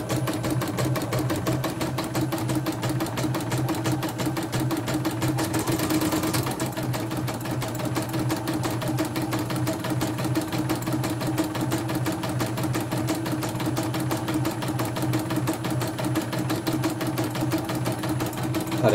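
A computerized embroidery machine in a Demak, Central Java workshop stitches steadily with a fast, even mechanical whir and rapid needle clatter that runs without a break throughout.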